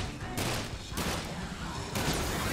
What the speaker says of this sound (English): Shoot him with the Dirty Harry!